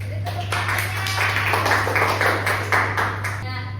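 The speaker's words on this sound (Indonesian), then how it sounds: "Beri tepuk tangannya." A school class claps hands during a micro-teaching lesson, a close, uneven patter of individual claps over a steady electrical hum, with a few voices mixed in.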